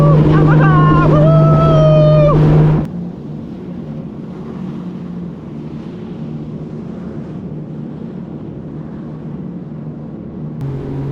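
Yamaha WaveRunner personal watercraft cross an open lake; raised voices shout and whoop at first, then a steady, loud rush of engine and wind noise carries on, closely and continuously.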